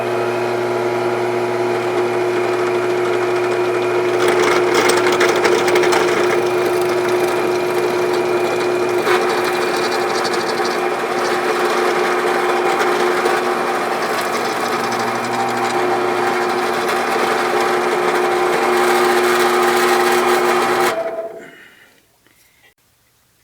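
Power drill boring a 1/4 inch hole through wooden parts taped together with double-sided tape, a steady loud whining drone running continuously for about twenty seconds before stopping abruptly.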